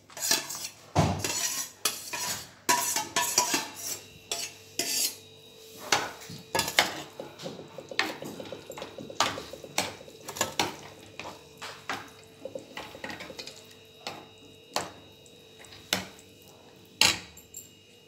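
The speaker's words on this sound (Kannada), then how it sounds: "ಅವಲಕ್ಕಿ ಹಾಕ್ತಾಯಿದ್ದೀನಿ." Soaked poha, flattened rice, going into a pan and being stirred, with a metal spoon clinking and scraping in repeated sharp strokes over a faint sizzle. No one speaks.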